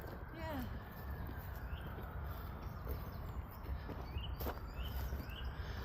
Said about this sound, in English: That were a pretty sounding bird, did you hear it?